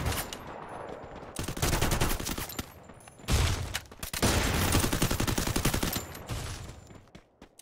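Rapid bursts of automatic gunfire in the Free Fire video game during a Clash Squad championship final, loud repeated volleys in two long sustained strings separated by brief pauses, no talk over them.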